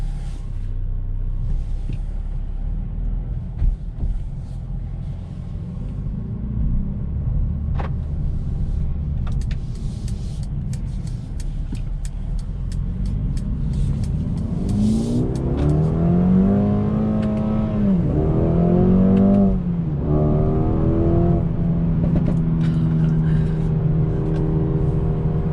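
A 2021 Mercedes-Benz A35 AMG heard from inside on a test drive: a steady engine rumble that builds into rising revs and gear-change sweeps in the second half, loud and continuous with no talking.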